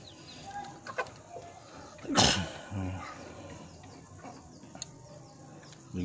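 Soft clucking from Joper chickens nearby, with a loud sharp squawk partway through amid scattered rustling and low background noise.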